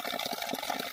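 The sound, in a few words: spring water flowing from a village spout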